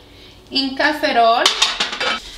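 A metal pan clanks and rattles as it is picked up and set down, bright ringing knocks close by, with no talking.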